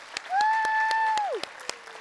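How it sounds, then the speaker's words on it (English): A high school Asian American and Pacific Islander celebration audience applauds, with scattered sharp claps beneath a loud sustained whistle-like cheer that holds steady and then slides downward, all fairly close. "Can we just Give him another round of applause because that was amazing."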